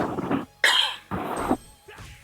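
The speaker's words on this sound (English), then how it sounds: "I know I just had this funny cough." A person coughs several times in short, harsh bursts close to the microphone, with brief gaps between them.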